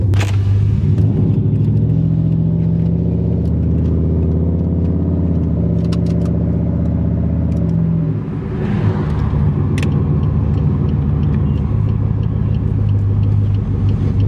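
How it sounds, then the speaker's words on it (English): A cold car engine in manual mode idles with a deep, steady rumble, close by, with a few sharp pops and crackles from the exhaust scattered throughout. "when this car is cold and I drive it in manual mode, it pops so much"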